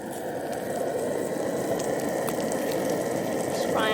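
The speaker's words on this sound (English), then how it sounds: "Just frying them up so that they're more like pepperoni." Pepperoni slices sizzle and fry in a pan at a campsite, a steady crackling hiss lasting throughout, close and moderately loud with no talking.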